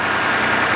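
An old, worn tractor engine idles close by with a steady, loud, rough drone through a brief moment.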